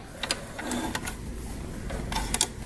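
A sewing machine stitching along the edge of fabric for a DIY sunglasses case, a soft continuous mechanical whir with a few quick rattling bursts, fairly quiet and close, without voices.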